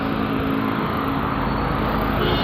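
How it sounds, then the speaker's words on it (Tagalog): Dense early-morning traffic near a church on a Sunday, a steady loud roar of many engines and tyres passing close by, with no pauses. "Kaya ganito, maraming sasakyan."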